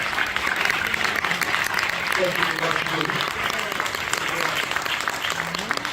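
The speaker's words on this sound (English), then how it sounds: "And give them a round of applause." A community event crowd at a Black History Month celebration applauds steadily for two community affairs officers, continuous clapping with a voice speaking over it.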